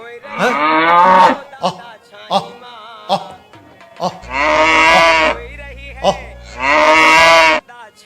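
A bull moos loudly and close several times in long, drawn-out bellowing calls, with short grunts between them and no talk.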